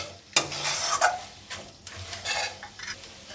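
Food fries in a pan with a bright sizzle while a utensil stirs and scrapes against the metal in repeated loud bursts close by.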